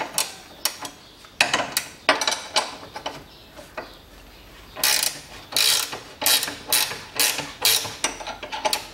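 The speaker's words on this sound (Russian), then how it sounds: "Так, откручиваем болты крепления." A wrench with a 19 mm socket ratchets in quick repeated clicks, loosening mounting bolts on a 2006 Lexus GS300 with the 3GR-FSE engine during a timing chain replacement; close and steady, no talk.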